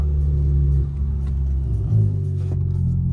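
Cabin view of a 2017 Volkswagen Golf R accelerating, a steady low engine rumble with a brief swell in revs midway, heard from inside the car with no talking.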